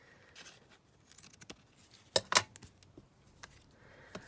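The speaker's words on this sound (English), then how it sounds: "Let's just trim these bits off here." Scissors trim small bits off a fabric-covered board tag with close, quiet snips, including a sharper pair of cuts midway, in an otherwise hushed setting.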